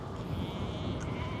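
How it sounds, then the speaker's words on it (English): Sheep bleat briefly amid steady low rumble and background noise in overgrown Dutch countryside, a faint single call standing out near the end. "At least this side the sheep are eating it."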